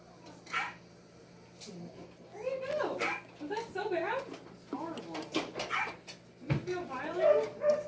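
A dog under veterinary examination gives repeated whimpers, yips and short snappy vocalizations, moderately close, mixed with people talking throughout and faint handling noises.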